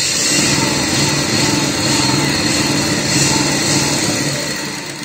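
A sewing machine runs steadily, stitching lace onto the sleeve of a kurti, with a continuous close, bright mechanical whir that holds throughout and eases slightly at the end.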